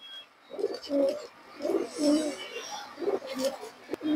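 Pigeons at a loft coo close by, a run of soft, throaty coos repeating in a loose rhythm, with light chirps and faint background noise between them.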